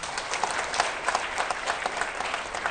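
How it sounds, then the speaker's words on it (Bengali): An audience at the Notun Kuri talent competition claps for participants who did not advance, a dense, fairly quiet patter of many hands at a steady pace. "তাদের জন্য একটা হাততালি"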